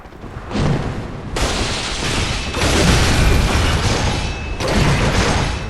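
A Beastcutter transformation attack in Bloodborne, with a burst of heavy, crunching game combat noise that swells, dips and surges again across several seconds, dense and loud throughout.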